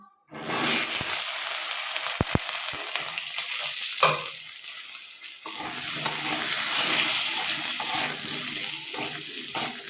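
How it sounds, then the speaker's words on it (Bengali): Potatoes fry in oil, producing a loud, dense, continuous sizzle and crackle that starts abruptly and carries on close up, with a few sharp clicks near the start and no speech. "আলুগুলোকে একটু লাল লাল করে ভাজা করে নিতে হবে"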